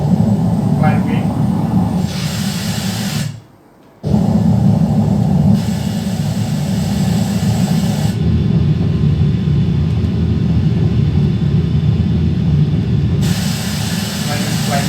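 Steady airliner engine roar during a climb-out in a flight simulator game, continuous and loud across the whole stretch, with a brief drop-out near the start.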